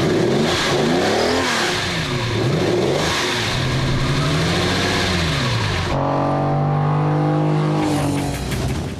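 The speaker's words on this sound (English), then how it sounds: "The V12 4-liter engine steals the show." A Lamborghini Countach's 4-liter V12 revs hard and climbs through the gears, loud and close, with rising and falling engine pitch, then a brief gearshift drop before it pulls again.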